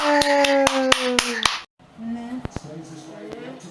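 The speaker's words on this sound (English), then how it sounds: "Clap for yourself." A three-year-old child claps her hands in a quick run of sharp, evenly spaced claps while a voice speaks, then a pause and a few scattered claps under continued talk.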